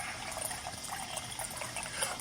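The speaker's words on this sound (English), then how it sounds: "simply pour some water." Water poured from a pitcher into a glass gives a steady, moderately quiet trickling stream lasting about two seconds, with no talk over it.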